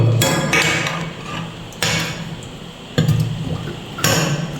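Mango pickle being stirred in oil, a few distinct scraping, clinking strokes of a spoon against the container at steady intervals, close and fairly loud.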